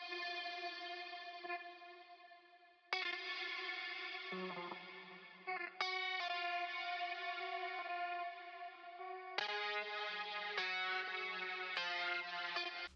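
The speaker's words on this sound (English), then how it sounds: "The final sound is the guitar." A guitar sample soaked in chorus, echo and distortion effects, played as sustained, shimmering chords that change every few seconds, with layered harmonic tones and no voices.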